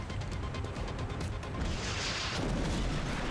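Rocket launcher fired in XCOM Long War, a single heavy blast with a rushing, crashing burst and rumbling boom that holds loud to the end, with no talk over it.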